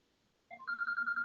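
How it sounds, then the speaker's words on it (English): A phone ringtone starts abruptly and rings on as a steady electronic trill, clear and fairly close, with no voices over it. "Oh, shut up, phone."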